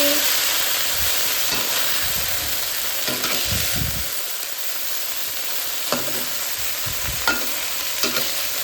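Vegetables sizzle steadily in a hot frying pan while a spatula stirs them, scraping and clattering in occasional bursts over the constant frying hiss.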